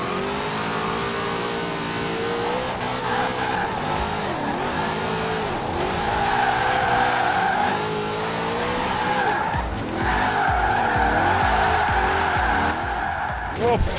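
Car drifting in Forza Horizon 4, with sustained tire squeal and skidding over a revving, accelerating engine, loud and continuous with wavering pitch as the car slides through corners.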